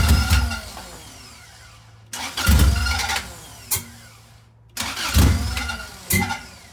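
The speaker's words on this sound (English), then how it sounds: "now we're going to do a test start and see if it runs" A car engine being test started: the starter cranks and the engine catches three times in a row, each attempt roaring briefly and loudly up close before dying back down, with no talking.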